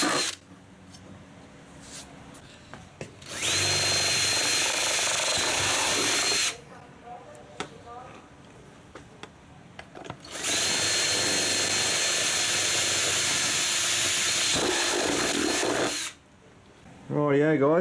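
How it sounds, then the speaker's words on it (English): A power drill with a 6mm bit bores holes for a DR650 motorcycle front fender brace: two long, loud, steady whines separated by a quiet pause with faint handling noises, close to the listener. "so remember it's just a 6mm drill"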